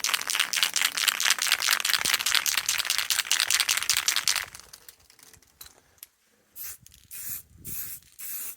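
Aerosol spray paint can shaken hard, the mixing ball rattling rapidly and loudly for about four seconds before fading to quieter scattered sounds.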